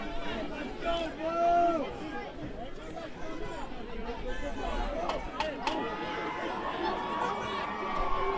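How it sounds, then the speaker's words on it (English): A crowd at a boys' varsity high school football game cheers and chatters steadily from the stands, a moderate continuous roar of voices that holds for several seconds beneath announcer commentary. "Crowd is going wild."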